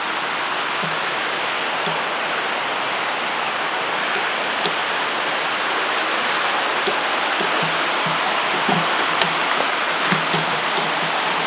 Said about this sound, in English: get you a look at the river this morning